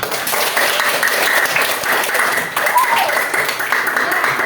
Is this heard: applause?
yes